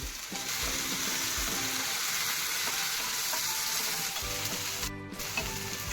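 Browned onion and tomato frying for egg bhurji in a pan, a continuous loud sizzle with the scrape and clatter of stirring throughout, no voices.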